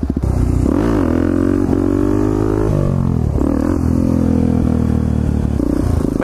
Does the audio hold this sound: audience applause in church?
no